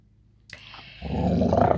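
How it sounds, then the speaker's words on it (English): Dogs growl for attention indoors, a low rumbling growl that starts quietly and swells into a louder, sustained snarl over the last second, with no talking. "My dogs just want attention now."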